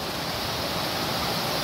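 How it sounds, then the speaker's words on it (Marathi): Stream water cascades down steep rock across a mountain trail in the Nakhinda Ghat near Kothaligad, a steady, dense, close rushing roar with no pause. "मस्त वरून कोसळत येत आहे पाणी."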